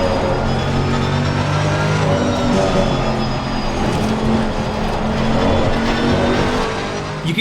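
Race car cockpit sound from the video game Assetto Corsa Competizione: a loud, continuous engine drone with shifting pitch and tire noise, steady throughout with no talking.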